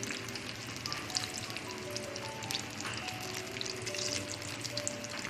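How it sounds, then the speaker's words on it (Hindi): Chicken deep-frying in a pan of hot oil gives a steady, close, crackling sizzle with dense popping bubbles, continuous throughout with no talk. "अब मैं आपको ना डीप फ्राई करके दिखाती हूँ"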